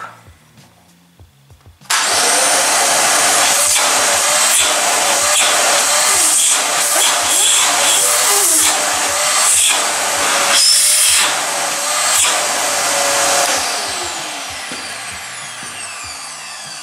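A Kärcher WD3 wet-and-dry vacuum cleaner switches on after a few quiet handling knocks, then runs with a steady loud whine and roar for the rest of the span, its pitch and rattle shifting slightly, close by.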